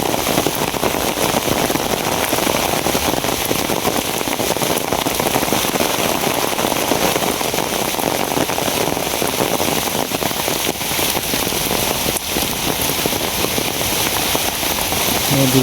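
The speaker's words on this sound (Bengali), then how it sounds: "প্রচুর বৃষ্টি শুরু হয়েছে।" Heavy rain pours down steadily and loudly, a dense, unbroken hiss of drops hitting surfaces close by throughout.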